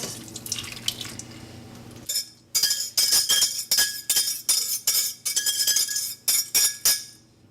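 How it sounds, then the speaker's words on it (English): Melted panna cotta mixture pours through a metal strainer into a milk and yogurt mixture, followed by a run of clinking, tapping scrapes of a utensil against the pan and strainer, close and fairly loud. "I will strain this into our milk and yogurt mixture"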